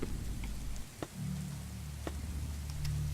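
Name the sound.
rain falling in the video game Kidnapped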